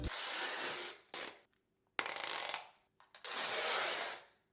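Loud screeching rips of packing tape pulled from a heavy-duty dispenser while packing furniture, three long pulls with short gaps and a clack between, close and harsh.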